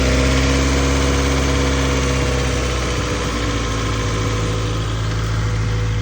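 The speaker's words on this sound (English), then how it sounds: "Still leaking a little bit. I can hear it." A Honda Integra engine idles close and loud with a small exhaust leak, a continuous throbbing rumble with a slight ticking puff in the exhaust note and no talk.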